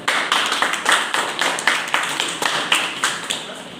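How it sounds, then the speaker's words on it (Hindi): Steady rhythmic hand clapping, a crowd keeping a regular beat, loud and continuous throughout. "तो मैं उनके लिए एक बार जोरदार ताली चाहूँगा"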